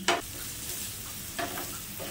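Note shak greens fry with bitter gourd in a hot pan, making a continuous sizzle broken by a few short scraping stirs of the spatula.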